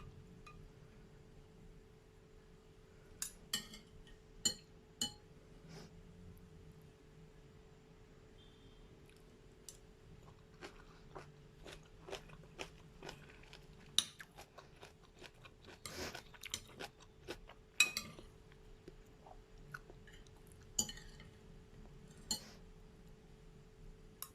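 Someone eats a microwave-cooked stir-fry of Chinese cabbage with pork in oyster sauce, with soft close chewing, occasional utensil clinks and crunchy bites over a quiet steady hum, no talking.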